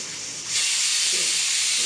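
A pressure cooker cooking green peas lets out steam, a faint hiss that jumps to a loud, steady, close whistling hiss about halfway through and holds to the end, with no talking.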